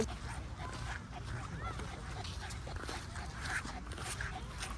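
A dog whimpers and yips intermittently nearby, with people talking and moving around in the background.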